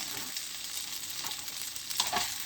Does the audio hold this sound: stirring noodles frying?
yes